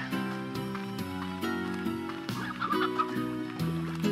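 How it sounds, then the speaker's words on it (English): Hens in the Slime Rancher video game cluck in short repeated bursts over the game's looping background music, moderately loud and without talk. "So let me just collect all the hen-hens I had to shoot out."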